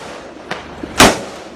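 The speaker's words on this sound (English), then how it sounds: "The sound of gunshots." A single sharp, loud bang cracks out after a quieter thump, close and abrupt against a low background hum.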